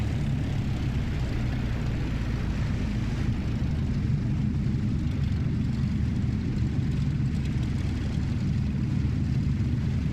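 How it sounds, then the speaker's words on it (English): A fixed-wing airliner taking off in Microsoft Flight Simulator 2020 at a Paris airport, heard as a steady, low engine roar and rumble that holds constant throughout, with no talking. "There's a plane just taking off to the left of us."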